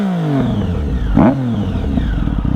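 A motorcycle engine, started with the clutch held in, fires up and revs sharply once near the middle before settling into a steady, close, throbbing idle.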